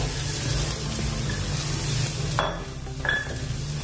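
Finely chopped carrots hit a hot pan of fried ginger and garlic and are stirred, giving a steady sizzle with a few brief scraping sounds near the end.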